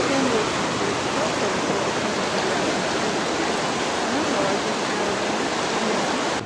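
A clear woodland stream runs steadily with a constant broadband rush of flowing water, close and even throughout, with no distinct splashes or voices standing out.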